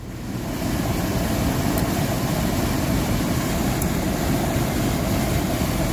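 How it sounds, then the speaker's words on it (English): A Dometic Penguin RV air conditioner compressor kicks on and settles into a loud, steady broadband hum and whoosh that holds without a break. "Okay, so there's the compressor."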